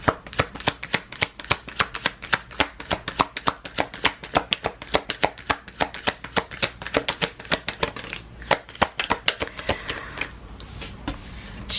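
Rapid riffle shuffling of a tarot deck, a steady run of sharp papery card flutters repeating for over ten seconds, close and fairly loud, with no talking.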